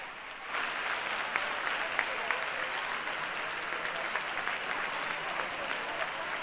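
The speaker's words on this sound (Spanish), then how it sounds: "Así que el aplauso para él." A crowd at a drag queen gala in Corralejo applauds a drag performer with dense, steady clapping that swells quickly and holds at an even level, close and full, with no talking over it.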